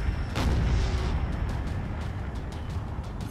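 Artillery firing in a Napoleon Total War battle opens with one loud, booming shot, followed by a rumbling tail and a scatter of fainter distant reports under a continuous low battlefield roar.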